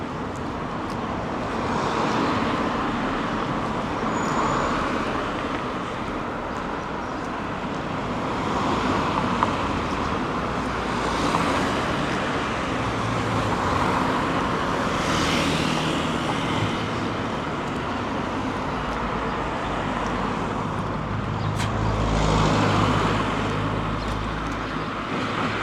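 Road traffic near Palmela train station hums steadily, with cars swelling past every few seconds and some wind, fairly distant and continuous with no talking.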